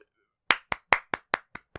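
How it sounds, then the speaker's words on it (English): Seven sharp hand claps in a steady, even rhythm, close and crisp, with silence between each. "Clap."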